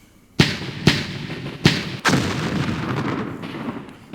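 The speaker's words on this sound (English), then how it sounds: "Alright, artillery fire from the enemy." Enemy artillery fire in the war strategy game Campaign Series Middle East, set in an Arab-Israeli war operation: four heavy booming blasts at irregular intervals, the last one rolling into a long rumbling tail.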